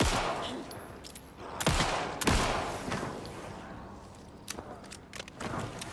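Gunfire in the horror video game Alan Wake II: a few loud, sharp shots several seconds apart, plus smaller clicks and rattles in between, over quiet ambient background.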